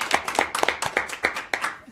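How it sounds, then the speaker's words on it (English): Round of applause at an education alliance board of directors meeting, a small group clapping in a brief, uneven patter of sharp hand claps that stays fairly close. "If everybody can help give a round of applause to WEA and Panasonic,"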